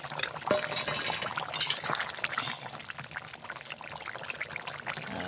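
Pieces of snakehead fish are poured into a simmering vegetable curry, a close, continuous liquid pouring and splashing with a brief clink of a pot or utensil near the start.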